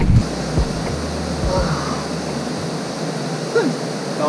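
River current rushing steadily outdoors, a broad, continuous watery hiss with low wind rumble buffeting the microphone at the start.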